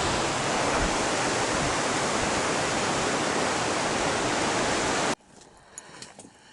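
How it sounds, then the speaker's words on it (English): A loud, dense rush of flowing creek water roars steadily, then cuts off abruptly near the end, leaving quiet background with a few faint sounds. "That's a big creek. That's an actual creek."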